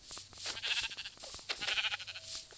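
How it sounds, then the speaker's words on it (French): Sheep in a Minecraft survival world bleat in short repeated calls over a steady high hiss, several overlapping bleats spread across the moment at moderate loudness. "Puis il y a beaucoup de moutons en vrai."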